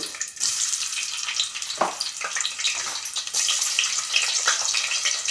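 Sliced onions and mustard seeds crackle and sizzle loudly in hot oil for a mutton curry, a dense, close, continuous frying hiss with sharp pops and no talk.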